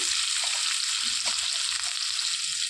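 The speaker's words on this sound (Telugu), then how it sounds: "ఉల్లిపాయలు వేసుకొని మంచిగా వేయించుకోవాలండి" Finely chopped onions fry in a pan for a cabbage and chana dal curry, giving a steady, dense sizzle that stays even and close throughout with no voices.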